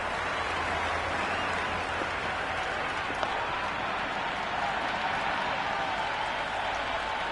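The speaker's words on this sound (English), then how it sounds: "the crowd have joined the party. It's pretty noisy at the ground." A large crowd in the cricket video game Cricket 24 roars and cheers continuously at a T20 match, a broad, steady wash of noise, loud and sustained throughout, with no clear individual voices.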